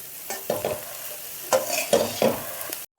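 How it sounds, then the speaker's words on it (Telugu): Beans fry with coconut and chili powder being stirred in a pan: a spoon scrapes and turns the mixture in several distinct close strokes over a soft steady sizzle, with a brief silence near the end. "ఇట్లా బాగా కలుపుతూ ఉండాలి కింద నుంచి పైకి."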